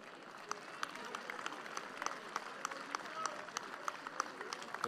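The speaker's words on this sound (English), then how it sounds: "A nice round of applause from the crowd on hand here today." A crowd at a Pony League World Series baseball game between Bay County, Michigan and Washington claps in a light, scattered round of applause, heard from a distance with sharper individual claps standing out from the steady patter.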